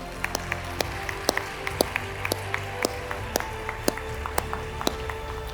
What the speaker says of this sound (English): So let's give them applause.